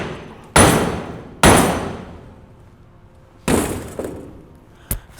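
Three heavy 8-pound sledgehammer blows strike welded metal, each a loud sharp clang with ringing decay, followed by a lighter tap and a final short knock.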